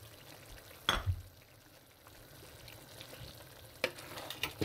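Lamb curry with chili and tomato stirred in a hot pan, a soft steady sizzle interrupted by a few close scrapes and knocks of the spoon.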